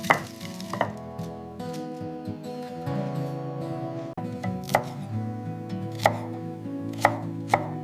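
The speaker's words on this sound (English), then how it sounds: "Mincing them very finely." Knife chopping aromatics very finely on a cutting board for a pork filling, a run of sharp, close knife strikes, some isolated and some clustered, over a steady low hum.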